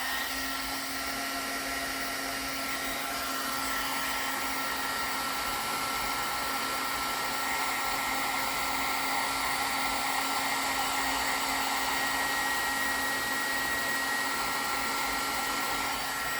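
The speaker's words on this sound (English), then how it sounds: "and I have my heat tool ready over here" A heat tool blows hot air over embossing powder on a small piece held with tweezers, a loud, constant fan-like whir and hiss that runs unbroken throughout with no speech.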